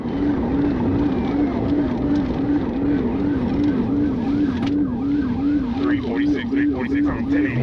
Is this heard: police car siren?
yes